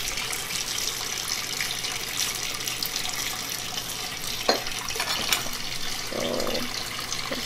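Warm water runs steadily from a kitchen tap while cookies are being made, a continuous close hiss and splash with a couple of brief clinks partway through.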